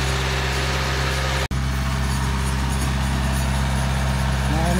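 A farm tractor idles in a field during soil preparation, giving a steady, close, low mechanical rumble that continues almost without change apart from one brief dropout.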